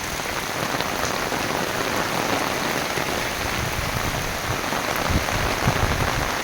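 Steady rain falls on surfaces outdoors, a dense, even hiss of countless drops with occasional louder splashes, moderately loud and continuous throughout with no voices.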